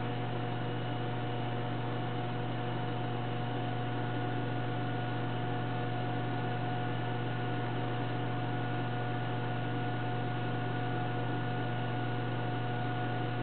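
An HHO torch flame plays against the tip of a nail, giving a steady, even hiss with a low electrical hum beneath it that runs unbroken throughout.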